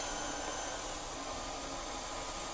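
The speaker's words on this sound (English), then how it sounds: "I'm going to turn the mixer down onto a low speed" Electric stand mixer turned down to a low speed while beating a gluten-free cupcake batter as eggs go in, giving a steady, even whir that runs unbroken throughout with no voices.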